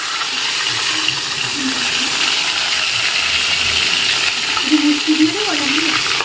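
Eggplant slices frying in plenty of hot oil, a steady close sizzle and crackle running throughout, with a few faint tonal clinks and scrapes near the end.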